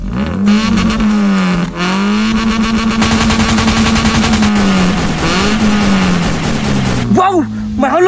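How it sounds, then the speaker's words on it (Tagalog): Ferrari exhaust revving hard, a loud close engine roar that holds high, dips briefly and climbs again in repeated surges before cutting off near the end, with excited voices around it. "Mahalon gini siya ng tambutso!"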